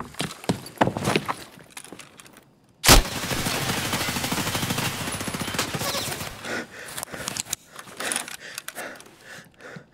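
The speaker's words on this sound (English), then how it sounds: "I'm pre-firing that to make sure nobody peeks it while I'm going back down." Gunfire in the game Escape From Tarkov, pre-firing a corner: scattered light clicks and footsteps, then a sudden loud, sustained burst of shots lasting several seconds before trailing off into smaller sounds.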